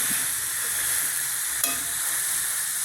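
Paneer sautéing with butter and pepper in a pan gives a steady, close, hissing sizzle with one brief scrape of the spatula partway through.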